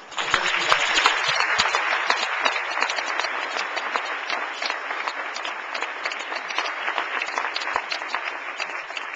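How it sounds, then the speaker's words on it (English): An audience applauds steadily at a women's charity luncheon event, a dense continuous patter of many hands that holds at an even level throughout with no voices rising above it. "Now I'm asking you to applaud them"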